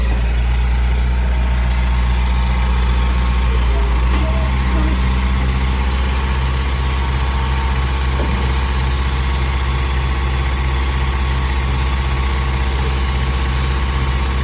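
A heavy rock-separating machine clearing stony ground for a durian pond, its diesel engine droning loud and close for the whole stretch with a deep steady rumble and faint clanks.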